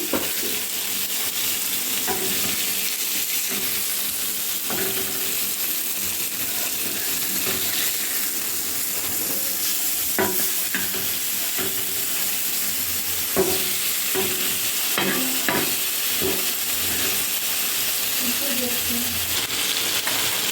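Fish frying in oil on a tawa, a loud, continuous close sizzle and crackle, broken by occasional metallic clinks and scrapes as the pieces are flipped.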